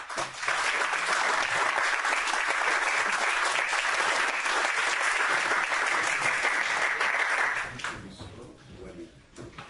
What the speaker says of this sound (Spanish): Así que les pido por favor de nuevo un aplauso.